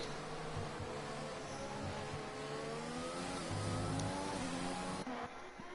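Ferrari race car engine in a racing video game, running at high revs along a straight with steady rising pitch and gear changes, moderately loud and continuous, no talk.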